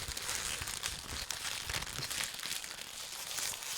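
Close, crackly crinkling of a chip bag, continuous and rustling as it is handled, with sharp papery crunches scattered throughout.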